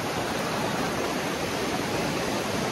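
Steady broadband rush of a waterfall near a village, its flow somewhat reduced, roaring continuously and fairly close with no voices over it.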